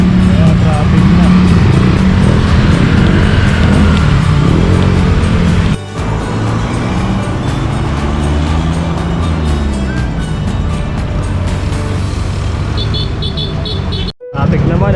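Rush hour road traffic in Manila, near where traffic from the LRT and Roxas Boulevard merges: a loud, dense rumble of cars and motorcycles with occasional horn toots, heard close up while a person talks over it.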